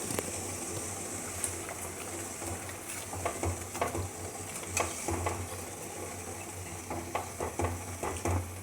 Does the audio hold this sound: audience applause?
no